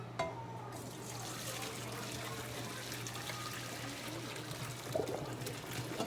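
Cooked pasta water pours into a drainer in a home kitchen, a soft steady trickling splash running throughout with faint voices in the background.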